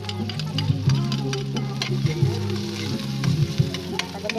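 Garlic sizzles and fries in a pan with onion while native chicken and banana heart are being cooked, a close, continuous crackling hiss with occasional stirring scrapes and no talking.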